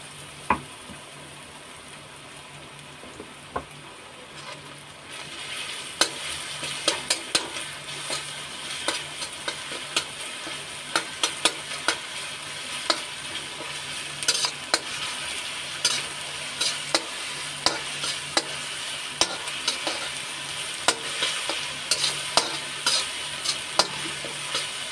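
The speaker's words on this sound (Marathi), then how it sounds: "आता आपले मसाले हे चांगले तेलामध्ये फ्राय झालेले आहेत." Ginger, garlic and green chili paste sizzles steadily in hot oil while a spoon scrapes and stirs the pan in frequent sharp taps, a continuous crackling fry throughout with no voices.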